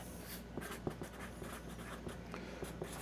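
A pen scratches out a pattern name on a shipping label for tableware, a soft, close run of quick strokes and taps over a quiet room hum, with no talking.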